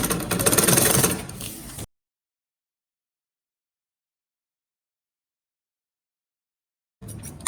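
A sewing machine stitches a trouser seam in one short, loud whirring burst, then cuts off into silence before faint sound returns at the end.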